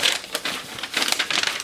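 A sticker peeled and torn off a resale handbag package, with sharp crinkling and ripping bursts in quick succession, close and fairly loud.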